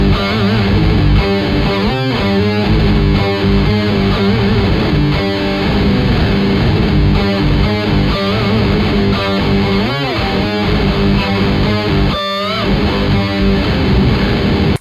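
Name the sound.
guitar through Zoom G6 normal pitch shifter effect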